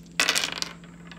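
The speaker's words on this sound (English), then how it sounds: "I ask for your assistance in rolling the dice for the sign of Sagittarius." Dice are rolled in one quick burst: a sharp clatter at the start followed by a few lighter, decaying rattles and ticks as they settle, close and fairly loud against a faint hum.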